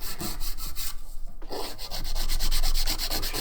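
A coarse 100-grit hand file rubs back and forth across a nail in quick, even strokes, close and steady, with a brief pause partway through.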